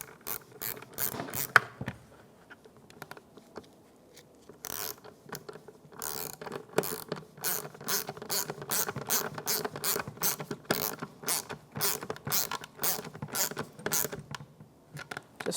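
A ratchet with a 1/4 inch socket drives a mounting screw on a Ford F-150 fuel pump, giving close, rapid bursts of clicking pawl sounds in quick strokes, with a short pause partway through.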